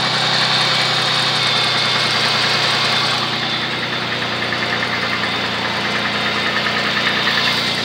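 A Chevy engine idles steadily for the whole stretch, a loud, even mechanical hum with a faint knocking rhythm and no talk over it.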